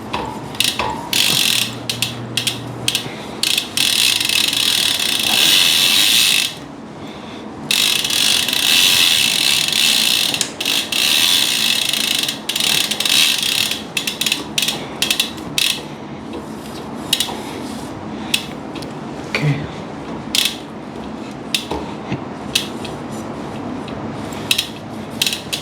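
A bicycle freewheel ratchets loudly and up close during a post-ride chain clean on a Specialized Allez Sprint Comp, giving long runs of rapid clicking buzz broken by brief pauses, with scraping rubs mixed in and no speech.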